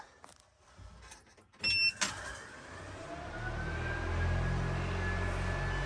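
Key turned on a 550 hp V8-swapped Honda hot rod: a short mechanical clunk and whir, then a steady low hum of cooling fans and fuel pump building and droning on close by.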